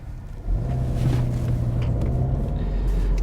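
Steady low rumble of a Hyundai Kona electric car driving along, a continuous near hum and road noise with no talk.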